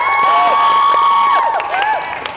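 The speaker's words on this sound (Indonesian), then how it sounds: "Tepuk tangan dulu buat semuanya." Students in an outdoor physical education class clap and cheer together, their excited shouts and high voices rising loudly and then tapering off over a couple of seconds.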